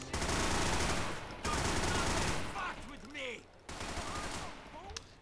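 Sustained rapid automatic gunfire in a GTA IV gunfight, dense and loud in long bursts with brief gaps, while someone talks over it.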